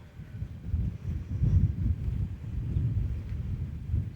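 Steady, rumbling wind buffets the microphone with low gusty roar and no voices.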